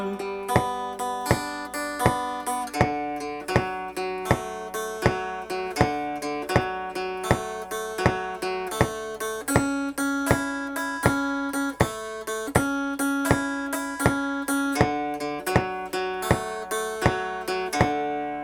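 A guitar plays the bass part of a song, opening on a single D strum, a steady repeating strummed and picked pattern with a lilting, uneven swing feel, clear and close, with no voices.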